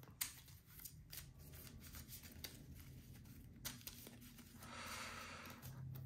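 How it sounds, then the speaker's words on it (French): Playing cards for the Les Dévoreurs de Rêves card game are shuffled quietly, a soft papery riffle and rustle that swells near the end over faint background noise, with no talking. "Alors, on va mélanger un poil."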